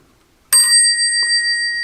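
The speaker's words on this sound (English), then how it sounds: "which I adjusted that to make it ting nice" A telephone bell, mounted on a metal plate with a single coil and adjusted to strike only one gong, gives one sharp, bright ting that rings on with a long, steady metallic sustain, and a faint soft knock follows partway through.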